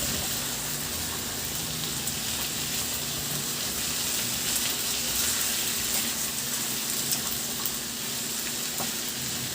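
500 grams of pork ribs fry in a pan, giving a dense, continuous close sizzle with faint stirring mixed in, loud and even throughout with no voices.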